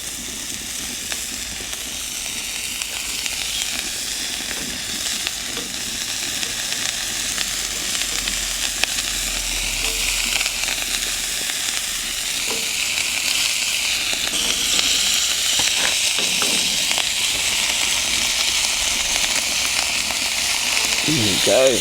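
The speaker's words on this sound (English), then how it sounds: "I do like the smell of bacon sizzling." Bacon sizzles in a frying pan with a steady crackling hiss that swells slightly over time, close and continuous, while a person speaks intermittently over it.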